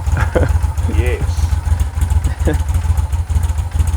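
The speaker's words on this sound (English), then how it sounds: "That's got a lovely exhaust note." A 2011 Moto Guzzi 750 V7 Racer motorcycle idles close by, its exhaust giving a loud, steady low pulsing throb, with someone talking briefly over it.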